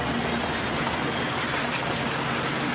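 A smoky train running along a railway, a steady, broad rumbling roar with faint rhythmic rattling, moderately distant and continuous throughout with no voices.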